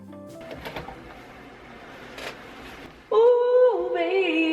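A sewing machine stitches a corset for an Esmeralda costume. Quiet fabric handling and faint shuffling come first, then the motor bursts into a loud, near, steady whirring hum for the final second and a half.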